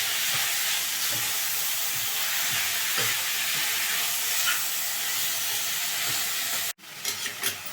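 Tomato, coconut and tamarind fry in a pan for chutney, giving a steady loud sizzle with faint stirring scrapes that cuts off abruptly near the end, followed by a few brief clatters.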